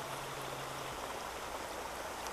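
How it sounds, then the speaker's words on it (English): Steady rain falling onto open water during a bass fishing outing, a dense even hiss of drops spread across the whole clip, with a low hum in the first part. "It's raining."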